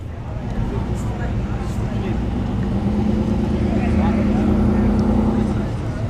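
An Audi S4 and a fourth-generation Chevrolet Camaro make a drag racing pass at ShowTime Dragstrip during a test-and-tune session, heard as a sustained, steady engine drone that swells slightly toward the end, with voices underneath.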